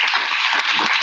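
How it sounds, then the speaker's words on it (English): Audience applause at a Rotary meeting for the introduced sponsor Richie, a dense, steady wash of clapping from a room of people, loud and continuous throughout the brief burst. "Let's give a big round of applause to"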